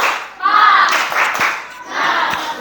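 A classroom group claps a rhythmic 'tepuk semangat' cheer pattern together, a short loud burst of hand claps with a few sharp accents and some voices mixed in.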